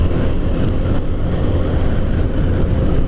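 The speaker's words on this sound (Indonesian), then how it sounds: "Mas Den sangat menyukai dari gaharnya mesin Hino Ranger ya." Hino Ranger truck engine droning steadily and loudly from inside the cab on the road, a low rumbling roar with wind noise throughout and no speech.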